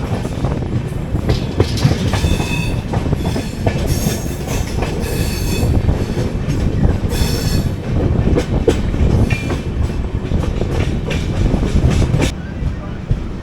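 A 22476 Coimbatore–Hisar AC Express rolls into Panvel station, its loud, close rumble and steady clattering of wheels on rails running without pause, with faint squeals.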